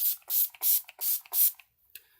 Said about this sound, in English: Here's some Oil Strike Finish Spray.